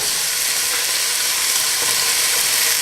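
Carrots frying in a pot for lobster bisque make a loud, even, close sizzle, a continuous bright hiss that holds steady throughout.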